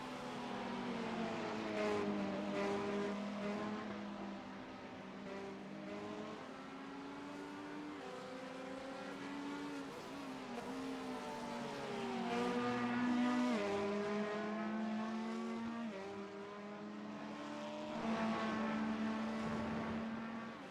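Onboard race car at the Spa 24 Hours, its engine note rising and falling through gear changes and revs, with long sweeping pitch climbs and drops, loud and continuous with no talking.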